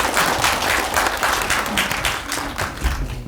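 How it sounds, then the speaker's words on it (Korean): Sustained applause from an audience at an academic history symposium, dense and even clapping filling the whole stretch without pause. "한 박수 부탁드립니다."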